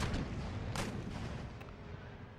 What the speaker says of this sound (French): On fait tirer encore un peu les canons.